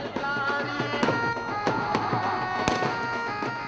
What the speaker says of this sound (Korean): 폭죽이 터지는 것으로 행진이 시작됐는데요.